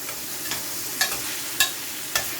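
Vegetables with tomato frying in a pan for a Jamaican saltfish cook-up: a steady low sizzle runs throughout, broken by four sharp utensil scrapes and clacks at roughly even intervals, close and fairly clear.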